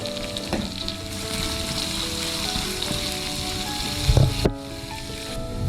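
Sliced onions sautéing in a pan with ginger and garlic for a soya chunk varattu, a steady close sizzle with a few sharp clatters and a louder bump near the end.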